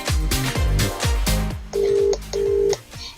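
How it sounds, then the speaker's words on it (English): A phone call is dialed through a LEMFO LF26 Max smartwatch, giving a rhythmic series of electronic tones followed by two long, steady ringback beeps, close and clear, with no talking. "Let's make a quick phone call."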